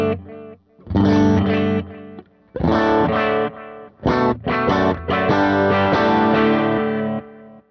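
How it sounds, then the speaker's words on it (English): An electric guitar played through a tape delay pedal on a worship pedalboard: bursts of driven, distorted chords in short phrases separated by brief gaps, each trailed by echoing repeats. "it has that good tape delay sound"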